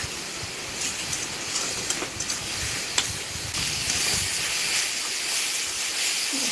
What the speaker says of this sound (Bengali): জলটা শুকিয়ে এসেছে, এইভাবে একটুখানি ভাজা ভাজা করে নেব, শুকনো শুকনো করে।